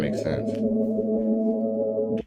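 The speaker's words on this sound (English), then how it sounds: "I bounced out the pad melody, I pushed it up an octave, put it on Stretch Pro" Sustained synth pad melody pitched up an octave with a formant shift, a droning, slightly hollow tone holding steady for about two seconds before cutting off abruptly, no voices.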